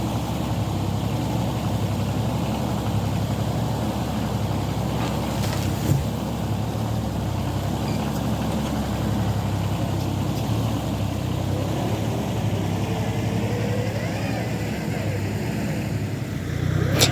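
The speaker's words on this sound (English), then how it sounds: "now that the tractor is full of fuel and warmed up" A tractor engine idles steadily after warming up, a continuous low mechanical drone with a harmonic hum that holds throughout, with one brief knock near the middle.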